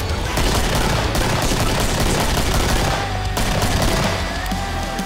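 Dense, continuous rapid gunfire from the video game Killing Floor fills the scene loudly, with relentless overlapping shots and a brief dip before the firing resumes.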